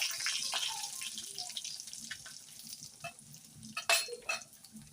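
Hot oil sizzles and crackles steadily as dried red chillies are dropped in and stirred, with a few sharper spits and clatters near the end.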